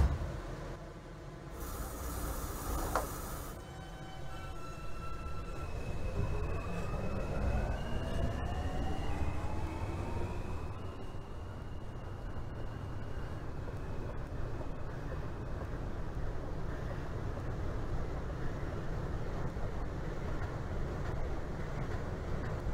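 An R160 subway train on the R line runs in the OpenBVE simulator, a steady low rumble and hiss of motion with rising motor whine tones that climb as it accelerates, continuing as a constant roar.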